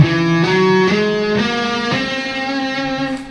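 A sequence of notes from the altered scale played on guitar, each plucked note ringing into the next at an even pace, close and clear, with no talking.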